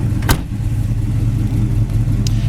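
A 1972 Chevy Chevelle Super Sport with a 454 engine, four-speed and dual exhaust runs steadily nearby with a deep, loud rumble, broken by a couple of brief sharp clicks.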